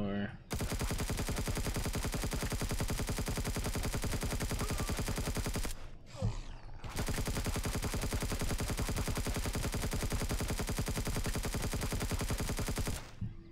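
Sustained rapid automatic gunfire from a weapon in the space survival game Empyrion, a dense unbroken stream of shots lasting several seconds, a brief pause, then another long burst.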